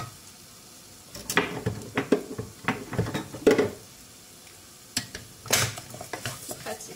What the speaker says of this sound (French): je vais rajouter le verre de boulgour entièrement. Là, je vais bien venir mélanger avec mon mélange de tomates